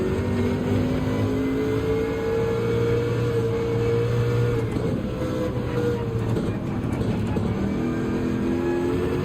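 A race car engine in Gran Turismo 7 on the Circuit de la Sarthe at Le Mans, a continuous loud droning hum with shifting tones throughout.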